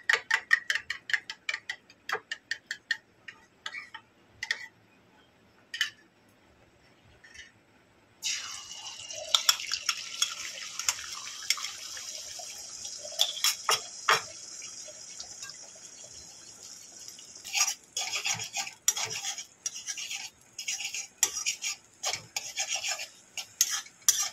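Egg frying in hot oil in a pan for egg chowmein, a steady loud sizzle and crackle that bursts in partway through and keeps spitting with sharp pops, after earlier light taps and clinks.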